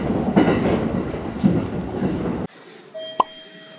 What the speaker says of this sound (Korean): 신칸센.